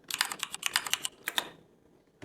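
A rapid run of close key clicks as a title is typed on a computer keyboard, ending in a short pause and then one last click.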